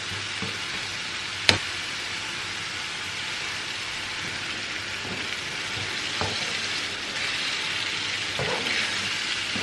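Masala puree for an eggplant curry frying in oil, a steady soft sizzle and bubbling hiss throughout, with one sharp utensil tap near the start and a few faint stirring knocks later.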